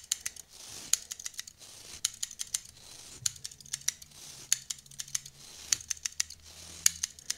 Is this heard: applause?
no